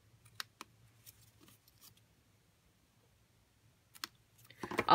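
Scissors trim paper card for a Stampin' Up! pop-up card: a few sparse, quiet snips and clicks spaced through a near-silent stretch, ending in a louder rustling cut close to the microphone.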